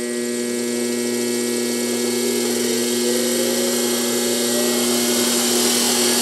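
A DC motor runs at high speed, around 1700 RPM, giving a loud, steady electric whine with a rising tone throughout.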